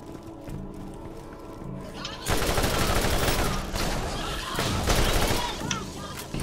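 Dense, sustained gunfire from a Borderlands shootout, the Claptrap's New Robot Revolution expansion, bursting in loud at two seconds after a quieter stretch and continuing as rapid overlapping shots to the end.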